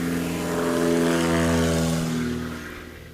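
A small propeller airplane takes off from a grass strip at a STOL competition, its engine droning loudly and steadily close by, then easing slightly as it climbs away.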